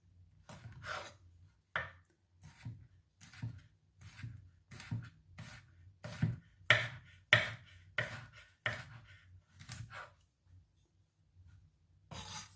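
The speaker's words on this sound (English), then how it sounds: "Now on to slicing everything up for the chutney" A knife slices garlic and other ingredients for mango chutney on a board, giving close, steady, rhythmic cuts of about one stroke per half second, with no talking.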